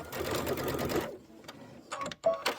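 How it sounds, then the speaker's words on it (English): A sewing machine back stitching a pillow seam through quilting fabric runs in a steady whirring burst for about a second, then stops, followed by a few quieter clicks and handling noises. "Back stitch here."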